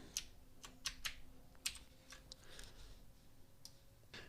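Quiet keystrokes on a computer keyboard while entering a command in a Linux terminal: scattered soft clicks in short irregular bursts against a faint steady hum.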